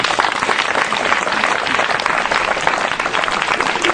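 A church congregation bursts into applause acclaiming Jesus, dense, loud clapping filling the space steadily and evenly from start to finish, with no voices standing out above it.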